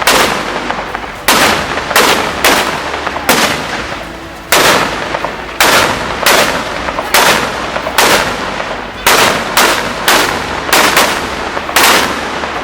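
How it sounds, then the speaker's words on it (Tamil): Firecrackers burst at a political celebration in a rapid, loud series of sharp cracks, some close together and some spaced apart, continuing for more than ten seconds without voices. "மகிழ்ச்சியில் பட்டாசு வெடித்து தங்களது உணர்வை வெளிப்படுத்தினார்கள்"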